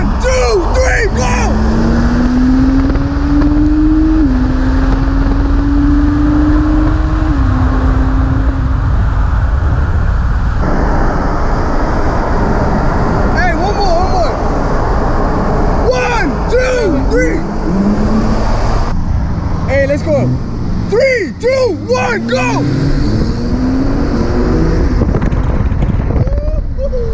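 A stock Porsche 911 Turbo and a tuned Nissan GTR accelerating hard in a race, with rising engine pitch through gear changes and heavy wind buffeting, and excited voices talking over it.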